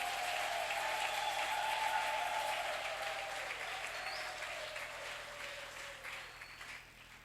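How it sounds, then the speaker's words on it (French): A church congregation claps and cheers for the Lord during a pastor's consecration service, steady sustained applause from a crowd that slowly fades toward the end, with no speech over it. "Est-ce qu'on peut acclamer le Seigneur pour cet engagement?"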